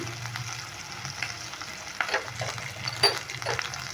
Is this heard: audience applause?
no